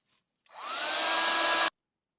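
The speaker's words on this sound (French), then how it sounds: "je vais vous mettre en pause pour sécher au heat gun" A heat gun blasts steadily for just over a second while drying a mixed media tissue box, a loud close whooshing roar that starts abruptly and cuts off cleanly, with silence around it.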